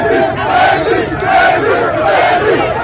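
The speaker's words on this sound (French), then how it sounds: "le professeur Maurice Kamto, est accueilli à l'entrée de la ville, chef de la région de l'Ouest, par une foule de curieux" A dense crowd of onlookers, activists and supporters roars and cheers at a town entrance in western Cameroon, greeting politician Maurice Kamto; the loud, sustained noise surges in waves throughout.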